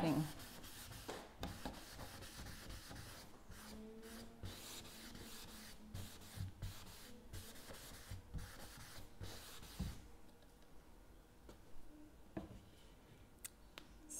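An old cotton sock buffs zinc wax across a furniture surface, making soft, irregular rubbing and wiping strokes close by, quiet and scratchy, with brief pauses between passes.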